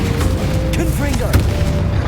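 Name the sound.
Confringo fire spell explosion from video game Hogwarts Legacy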